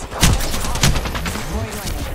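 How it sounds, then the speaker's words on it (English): Gunfire in the Apex Legends video game, with sharp bursts of shots near the start and again just before the one-second mark, amid busy game noise and a voice speaking. "I'm taking shots"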